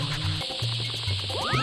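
Sand sound effect from the Super Mario 64 video game on N64, with steady hissy noise under low looping game tones and a few rising chirps near the end.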